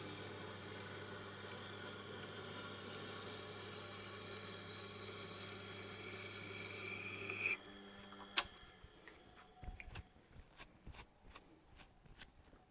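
A Global kitchen knife grinds against a Tormek Blackstone sharpening wheel in a steady, loud rasping hiss that cuts off abruptly, followed by scattered light clicks and taps.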